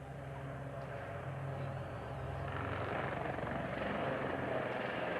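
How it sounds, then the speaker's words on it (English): Two Royal New Zealand Navy Kaman Seasprite helicopters drone past at a distance at an airshow, their rotor thrum steady and gradually growing a little louder, with no talking. "you can now see those two aircraft approaching for their run-in."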